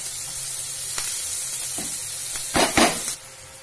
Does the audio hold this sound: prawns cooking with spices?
yes